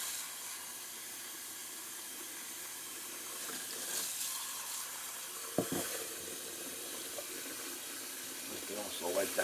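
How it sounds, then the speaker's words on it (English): Running water from a bathroom sink tap rinses out a shaving soap bowl, a steady close hiss with a few splashes and small clinks toward the end. "let me just rinse out my timeless bowl while I'm waiting for my face just to dry up a little bit"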